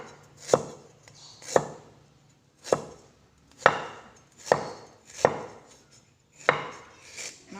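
A knife slices ginger finely on a board, seven sharp separate chops at an uneven, unhurried pace, close and clear against a quiet room.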